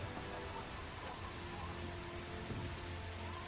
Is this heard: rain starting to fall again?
yes